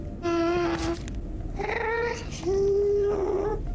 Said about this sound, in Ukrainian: А ще ви знали, що плач Гаста це звук звичайнісінької кішки